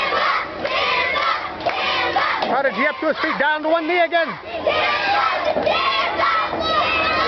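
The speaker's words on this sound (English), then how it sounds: "listen to that crowd behind Kimba" A wrestling crowd roars and shouts behind Kimba during a bout against Prodigy, loud sustained cheering with rising individual yells, while a commentator talks over the noise.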